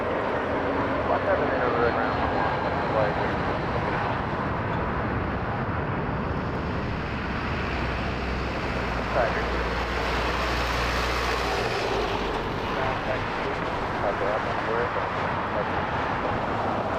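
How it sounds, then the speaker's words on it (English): An Airbus A321-200 at Las Vegas gives off a steady, broad jet-engine roar at moderate distance, swelling slightly near the middle. Wind-buffeted ambience and light background chatter run throughout. "And this is an Airbus 321-200."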